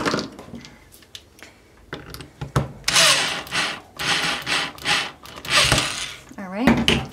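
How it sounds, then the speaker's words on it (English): Screwdriver driving a screw into wood for a DIY dog treat and leash holder, with bursts of gritty twisting and rubbing scrapes in uneven strokes, close and fairly loud, alongside occasional speech. "I may start with my screwdriver first"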